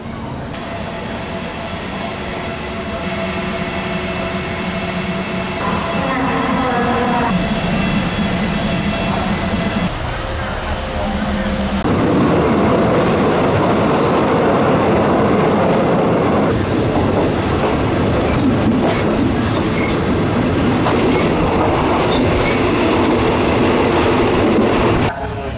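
A third-class train running from Bangkok to Ayutthaya in Thailand: steady loud rumble of the carriage with rhythmic wheel clatter on the rails and occasional squealing, heard from inside throughout with no talking.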